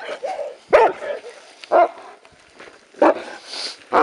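A police dog barks in sharp, loud, irregular bursts at close range, roughly four or five barks with pauses between, during a tense street confrontation.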